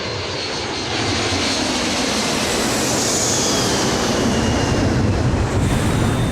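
Airliner engines roar in a loud, continuous, unbroken drone as the jet of United Airlines Flight 811 makes a steep emergency descent after an explosive decompression, with no voices.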